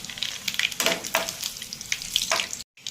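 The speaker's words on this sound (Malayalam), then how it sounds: "കടുക് പൊട്ടി അതിനകത്തേക്ക് നമുക്ക് 2-3 ചുമന്ന മുളക് ഇട്ട് കൊടുക്കാം." Red chillies crackle in hot coconut oil with popping mustard seeds, an uneven spattering sizzle in short bursts that stops abruptly near the end.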